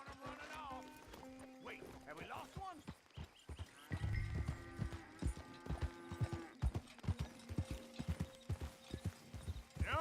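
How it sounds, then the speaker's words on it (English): Horse hooves clip-clop steadily in Red Dead Redemption 2, a rhythmic run of close, moderately loud footfalls heard under ongoing talk and game sounds. "let's get on our horse"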